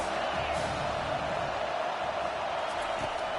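A football stadium crowd roars in a dense, continuous wash of noise during a play, steady and loud throughout, with faint shouts and a commentator's voice buried beneath.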